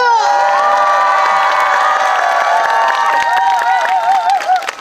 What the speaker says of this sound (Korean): 여러분 박수와 함성 보내주세요!